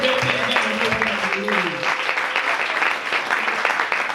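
A church congregation at a Sunday service breaks into loud, sustained applause that follows a few moments of a voice, the clapping dense and close until the end.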